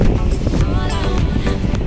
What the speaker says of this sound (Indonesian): Untuk cuaca pagi ini sudah mulai anginnya kencang banget ya, anginnya kencang.